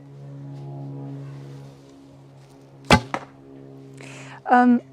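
An arrow is released from a Yuwen Turkish V3 bow, a single sharp snap and thwack that stands out against a low steady hum. A short voiced sound follows afterward.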